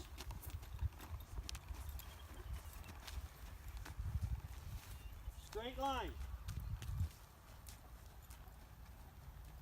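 Hooves clop steadily on the ground as a horse walks, with a brief whinny partway through and someone speaking briefly.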